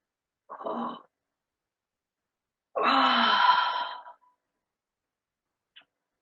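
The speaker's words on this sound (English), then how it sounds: "You can even yawn or fake a yawn." A yawn during a yoga stretch: a short breathy exhale, then a longer, louder drawn-out yawning breath with a voiced tone, and a faint final breath, all close and otherwise quiet.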